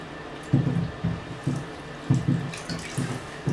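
Tap water running into a sink while rinsing freshly developed C41 colour film, splashing in uneven bursts about every half second, close and fairly loud with a steady underlying hiss.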